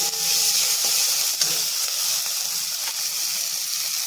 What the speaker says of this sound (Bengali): এবার আমি ভালো করে মশলাটা কষিয়ে নিচ্ছি